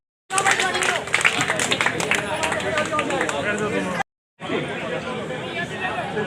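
Dense crowd chatter at a village election rally, a loud continuous babble of many voices close by, briefly cut to silence before resuming.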